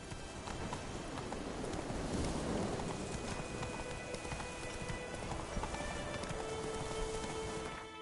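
A horse gallops in a PS4 video game, its steady rapid hoofbeats clopping close over a constant rain-like hiss, with no talking.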